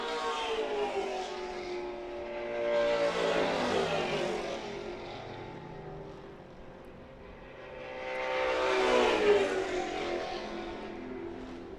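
Two TA2 race cars sweep down the long straight at VIR after Oak Tree, each engine rising to a loud roaring pass with a Doppler pitch drop and fading away, the second pass arriving several seconds after the first.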